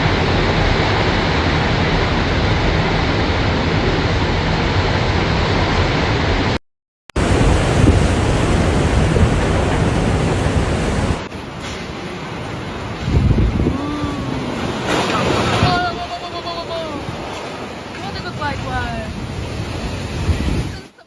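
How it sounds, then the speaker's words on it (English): Typhoon Matmo drives violent winds and powerful waves along the coast of southern China, a loud, continuous roar of surf and wind buffeting the microphone, briefly cut out, then dropping to rougher gusty noise with faint background sounds. "unleashing violent winds, torrential rainfall, and powerful waves"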